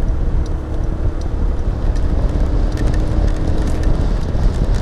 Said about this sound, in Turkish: Şimdi de yağmur başladı.